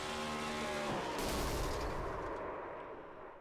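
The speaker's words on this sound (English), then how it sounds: "he blew an engine" A race car engine blowing up in an iRacing Cup Series Duel at Daytona International Speedway: a loud engine roar breaks into a harsh, explosive blast, followed by a rough, fading rumble.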